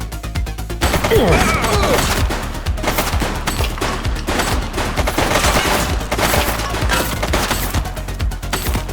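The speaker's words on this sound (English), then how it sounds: "Shots fired!" Gunfire in The Precinct, a police video game: rapid bursts of shots and crashes in dense, loud volleys with short gaps, set in a busy action scene.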